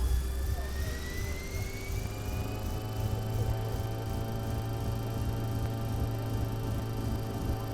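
Jet airliner engines spool up to takeoff thrust in a flight simulator game, a steady, loud whining roar with a rising turbine tone and low rumble, no voices.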